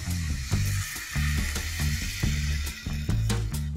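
Sliced mushrooms being stirred in a hot sizzling pan for Indo-Chinese hot and sour chicken soup, with repeated scraping strokes of a spoon or spatula over a steady close fry hiss.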